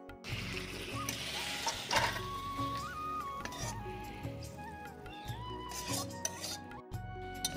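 A cooked Malabar spinach dish is scraped and poured out of a pan, with repeated metallic scraping of a spoon against the pan, clinks and soft wet shuffling, close up.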